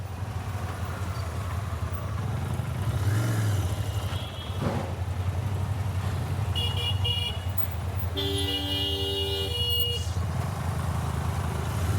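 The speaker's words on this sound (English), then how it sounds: "man, that sweet sounding parallel twin." A Royal Enfield Interceptor 650 parallel-twin engine runs steadily and loudly while being ridden, a low rumble throughout, with a car horn honking and brief traffic tones in the latter half.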